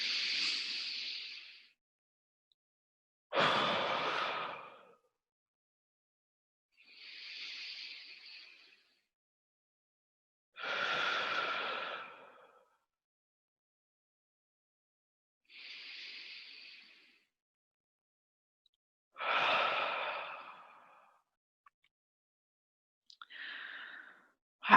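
Seven long, forceful exhalations from a mindfulness breathing exercise, each a breathy hiss lasting a second or two, separated by quiet pauses, close to the microphone and with no talk.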